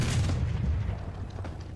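A tank in a World of Tanks-style match fires a smoke grenade, heard as a dull, muffled low boom and rumble that fades over about two seconds with no talk.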